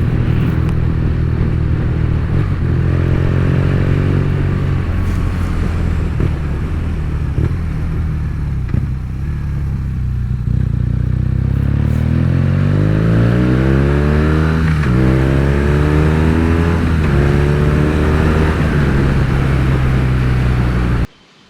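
A BMW R nineT motorcycle engine drones steadily and loudly while riding, its pitch rising and falling as the rider accelerates and shifts gears, with wind rush throughout.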